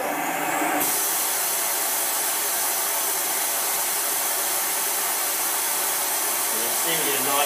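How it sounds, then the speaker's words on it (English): Loud, steady whooshing drone of a vacuum cleaner running close by, continuous throughout, used for mounting photos and prints. "plug it into the vacuum cleaner"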